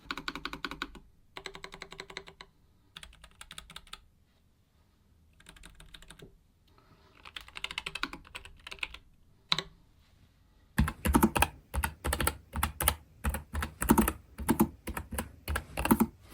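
Mechanical keyboard keys with brown switches clack in quick irregular bursts, quieter at first with pauses, then louder and denser typing near the end.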